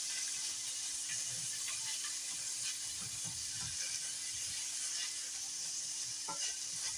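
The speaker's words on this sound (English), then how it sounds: "And I just cook this down until my corn gets a little texture to it" Frozen corn cooks in a pan with a steady, close sizzle that carries on throughout, broken by occasional soft stirring scrapes.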